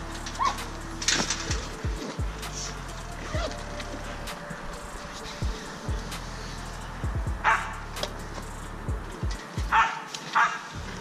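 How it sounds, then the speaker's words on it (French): A guard dog barks in short, sharp bursts, several times over the span, at a château, with rustling and some background noise around it. "Quand j'ai vu le chien, je savais que c'était un chien de garde."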